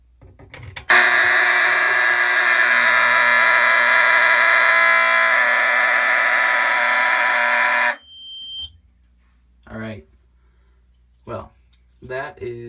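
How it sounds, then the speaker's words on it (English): An older smoke detector with an old-fashioned horn, tested by jumping its connections in a home alarm system, blares a loud, continuous harsh buzzing tone for about seven seconds, then stops abruptly, followed by brief speech. "Let's go ahead and test the smoke detector."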